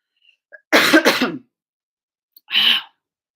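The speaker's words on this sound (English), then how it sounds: "I keep coughing" Two sharp coughs close together, then a lone cough a beat later, close and loud against near silence, from a livestream host.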